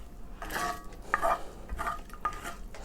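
A spoon scraping and clinking as a bacon and onion mixture is spread over air-fried loaded French fries, several short metallic scrapes and knocks close by with a faint sizzle underneath.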